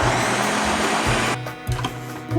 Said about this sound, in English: we're gonna blend all these ingredients up